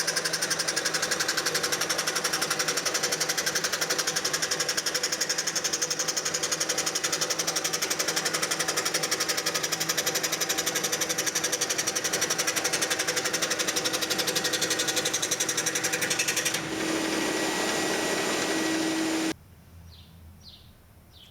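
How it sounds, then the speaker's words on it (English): A scroll saw cuts micarta scales with a steady, fast mechanical buzz that runs for most of the stretch, then shifts tone briefly and cuts off, leaving faint room noise. "After I get the scales drawn on the micarta, I'm cutting them out with this scroll saw."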